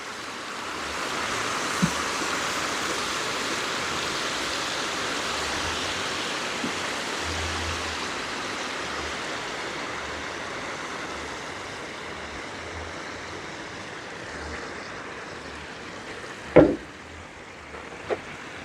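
Bacon and maple syrup bubble and sizzle in a pan as a constant close hiss, with a couple of sharp pops near the end.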